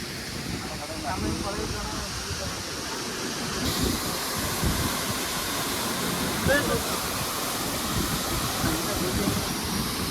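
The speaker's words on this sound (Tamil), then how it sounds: "இதான் அந்த ஃபால்ஸ், மர்மலா வாட்டர் ஃபால்ஸ்." Marmala waterfall in Vagamon, Kerala, during the monsoon, roaring as a steady broadband rush of falling water that stays loud and continuous throughout, with faint voices in the background.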